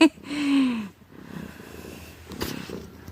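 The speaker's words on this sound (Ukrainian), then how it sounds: "Ось такий в мене любвіобільний кіт." A domestic cat purrs close by, a low rumbling drone with a brief snort and rustle partway through, no speech over it.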